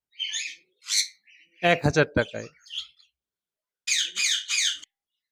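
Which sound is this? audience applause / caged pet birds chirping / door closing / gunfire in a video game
caged pet birds chirping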